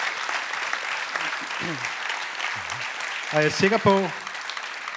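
Audience clapping at a Danish public debate on municipal libraries, a steady, diffuse patter of applause running throughout, with a few brief spoken voices and a short burst of talk near the end rising over it.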